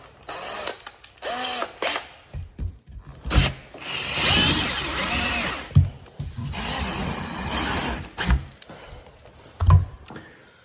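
A power drill whirs in several bursts of varying length, grinding and chattering as it drills out a wooden chair joint, with short pauses and small knocks between runs.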